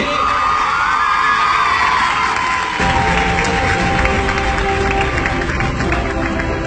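A crowd at a speech event in Charsadda bursts into dense applause, whoops and cheering, with loud overlapping clapping and shouts that fill the whole stretch at a steady level.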